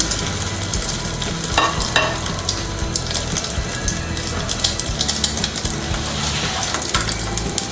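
Steady sizzling of bread-coated potato chops frying in hot oil in a wok, with occasional scraping and stirring, close by and continuous.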